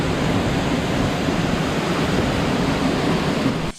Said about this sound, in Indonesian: Wisata yang akan kita datangi kali ini adalah yaitu air terjun Balangbulang.